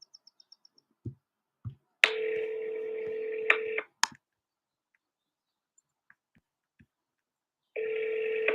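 A phone call rings out twice as the caller dials again, with long electronic ring tones separated by silence. Brief dial beeps and faint clicks come first.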